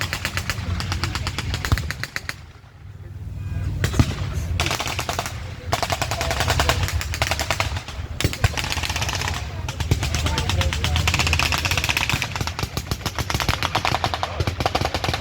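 Sustained machine gun and rifle fire at a WWII reenactment battle, with dense rapid bursts and sharp single cracks repeating loudly for the whole stretch, set against a rumbling background.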